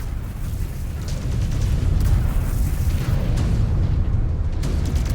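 A mech's reactor blows apart in the MechWarrior 5: Clans video game, a loud sustained explosive rumble with heavy low-end boom swelling after a second and holding steady to the end.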